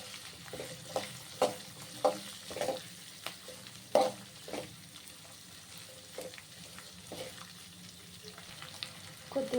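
Chopped onions and curry leaves frying in a pan, a soft, fairly quiet sizzle with repeated scraping and stirring clicks scattered throughout.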